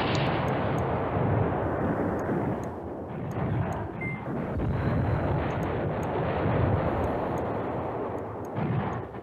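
Artillery fire rumbles in a Command Ops 2 war game battle, a dense continuous roar of distant barrages and explosions running throughout, with faint beeps above it.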